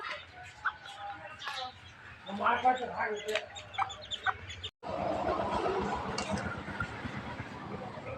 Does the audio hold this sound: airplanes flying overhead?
no